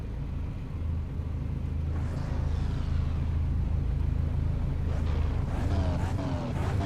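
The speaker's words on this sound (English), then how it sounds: "We hear those engines coming up." Racing car engines approaching on the Circuit of the Americas in a racing game, a steady rumble that swells with rising whines as cars draw nearer, one after another, with a faint voice underneath.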